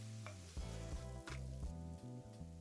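Chopped onion, green chilies and ginger frying in a pan for palak paneer, a soft continuous sizzle with a few stirring scrapes, faint and alone under a low background hum.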